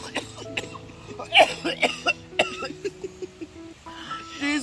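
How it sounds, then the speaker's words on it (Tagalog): A person coughs in a noisy home setting, with several short, sharp coughs scattered among chatter and laughter from others nearby. "akong ubo."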